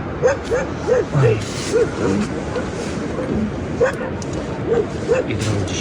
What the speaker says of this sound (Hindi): कुत्ते बहुत सारे भौंक रहे हैं।